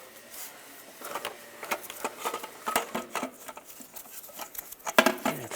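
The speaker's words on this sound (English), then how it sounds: "And just twist the alternator." An alternator is twisted out of its bracket in the engine bay of a 1999-2005 Volkswagen Jetta, producing a steady run of metallic scraping, clicking and knocking close by, growing busier and peaking in a sharp clank near the end.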